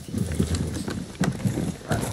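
Horse hooves clip-clop at a steady walking rhythm in the video game Far Cry 6, close and fairly loud, with a few sharper hoof strikes standing out and no talking.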